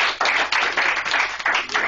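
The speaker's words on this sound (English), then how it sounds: "And so, give you a little round of applause." A small audience claps for a motivational diversity speaker, a dense, steady patter of hands rising and falling in short waves, fairly close and alone without talk.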